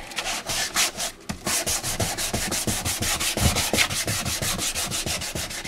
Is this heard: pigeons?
no